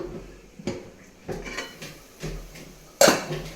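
A lid is lifted off a pot of fish curry, giving metallic clatters and knocks of cookware, several separate clanks with a sharper clang near the end, close and moderately loud with no talking.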